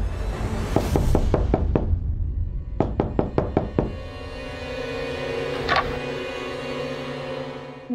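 Sharp knocks rap on a door in two quick bursts, six or so blows then five, loud and close, followed by a steady low household hum.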